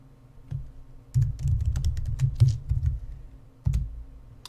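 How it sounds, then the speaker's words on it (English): Keys typed on a computer keyboard during a Rune Knight game session, heard as close, busy bursts of clicks and clacks in quick irregular runs with brief pauses between them. "you can see I'm typing it right here"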